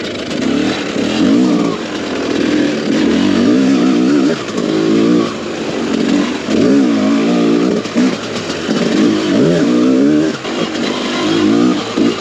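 A 2022 TM EN300 dirt bike with throttle body fuel injection runs with a loud, rasping two-stroke engine note, rising and falling in repeated throttle blips close to the listener.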